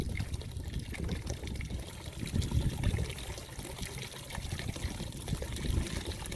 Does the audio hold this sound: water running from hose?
yes